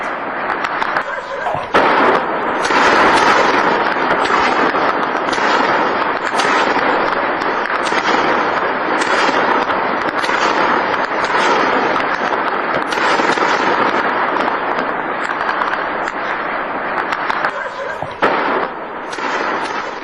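A rapid series of loud, booming explosions at the Line of Control during cross-border shelling, blasts following one another back to back with dense, rumbling noise and no pauses.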